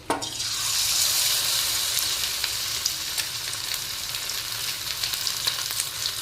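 Amude fish frying in hot oil in a wok give a steady, loud sizzling hiss with scattered crackles and pops throughout, close up and with no voices.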